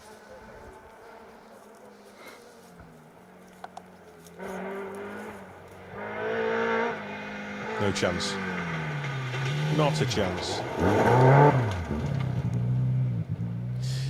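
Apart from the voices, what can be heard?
BMW E30 M3 rally car passing on stage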